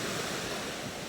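Sea waves at high tide wash onto Bucana beach in a steady, broad roar with wind noise on the microphone, continuous and without voices.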